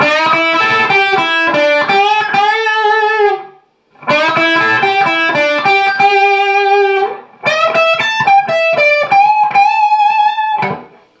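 Distorted electric guitar plays three fast repeated riffs, the phrases shifting between low and high registers an octave apart, with short gaps between them.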